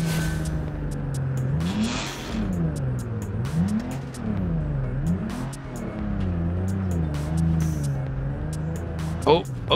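A 4x4 engine in the BeamNG driving game revs and accelerates through the gears, its pitch repeatedly rising and dropping with each shift, loud and continuous, with scattered clicks and a brief hiss near the end.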